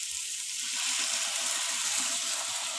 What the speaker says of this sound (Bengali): এই দেখুন দিয়ে দিয়েছি জল,